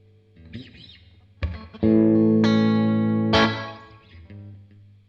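Electric guitar played through a Crazy Tube Circuits Splash MK3 reverb pedal on a short spring setting: a few soft picked notes, then loud sustained chords with a brief, springy decay trailing each strike.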